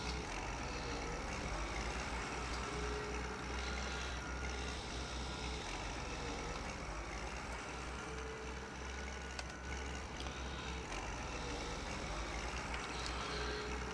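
A tractor in Farm Expert 2017 drones steadily across a field, a continuous low engine rumble with a dense, unchanging texture that lasts the whole stretch without pause.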